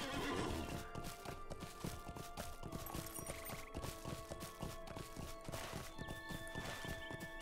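A horse neighs and whinnies in the video game The Lord of the Rings Online over a steady rhythm of clip-clopping hooves, continuous and moderately close, with faint musical tones in the background.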